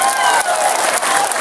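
An audience at an Indonesian religious lecture applauds, a dense burst of clapping heard close and loud throughout.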